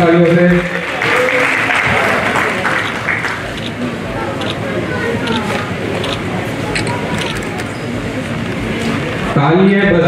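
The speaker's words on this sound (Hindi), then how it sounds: "एक बार जोरदार तालियों से" A large crowd at a political rally in Banswara claps loudly and continuously, a dense wash of applause that holds steady for several seconds, with a voice over a loudspeaker at the start and end.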